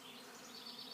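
A honeybee swarm arriving at a swarm trap outdoors, heard as a dense, continuous steady buzz of many bees, loud and close throughout with no talk.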